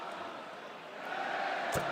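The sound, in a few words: basketball crowd reacting unhappily to a foul call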